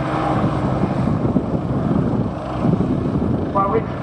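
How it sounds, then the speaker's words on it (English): A Westland Scout helicopter manoeuvres sideways at an air show, its rotor and engine a steady broad rumble heard from a distance over crowd ambience, with no clear talking. "here you can see the Scout moving to the side"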